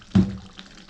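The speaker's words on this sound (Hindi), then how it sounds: "फिर से पानी डाल देंगे क्योंकि मुझे ग्रेवी थोड़ी सी कम लग रही है" Water splashes into mutton curry gravy simmering in a pot, a single short gush that quickly fades into a faint trickle.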